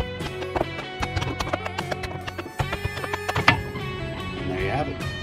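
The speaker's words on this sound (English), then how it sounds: "Should just take a few hammer taps to get the rest off." Hammer taps knock the loosened top off a wooden barrel, a quick irregular series of sharp, close knocks over a steady tonal background.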